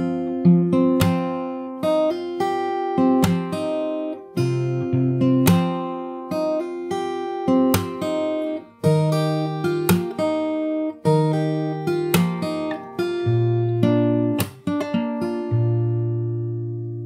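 Fingerstyle acoustic guitar plays the intro of a song, with plucked melody notes over bass notes in a steady rhythmic pattern and occasional percussive strums, close and clear without voices.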